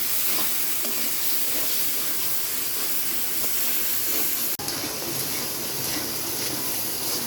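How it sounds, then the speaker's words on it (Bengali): Spice paste of garlic, onion, coriander, turmeric, chili and ginger being sautéed in a pan gives a loud, continuous hissing sizzle with steam, steady throughout with one brief dropout. "মশলাটাকে এখন ভালোভাবে কষিয়ে নেব"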